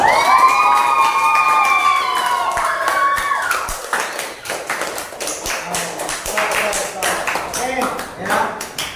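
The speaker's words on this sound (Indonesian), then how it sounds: "Tepuk tangan buat kalian semua." Classroom of children clapping and cheering during an English lesson, a burst of close, dense hand claps with excited young voices and shouts mixed in throughout.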